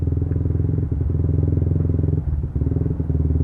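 A modified Yamaha Vixion 175cc touring motorcycle is ridden with its engine close by, giving a steady, throbbing drone and a couple of brief dips as the throttle eases.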